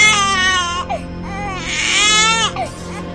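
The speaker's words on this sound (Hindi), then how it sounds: "तभी अंदर से बच्चे के रोने की आवाज आती है।" A baby cries in loud, wailing bursts with short breaks between them, heard in a Hindi cartoon horror story set in a haunted mansion.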